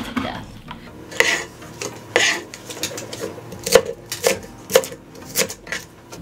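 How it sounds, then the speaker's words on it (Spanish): A knife slicing beef into strips on a cutting board for Korean spicy beef soup: irregular sharp chopping taps, close and fairly loud, a few seconds apart, with faint background noise and no talking. "Lo voy a cortar en tiras."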